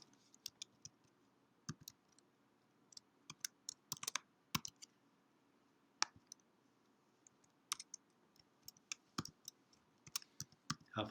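Someone types on a computer keyboard in irregular bursts of close, quiet key clicks and taps, with brief pauses between runs of keystrokes.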